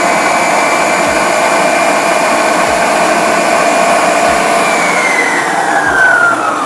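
An electric mixer runs steadily through chocolate cake batter, a loud continuous whir close by whose pitch drifts slightly near the end, heard alone with no talking.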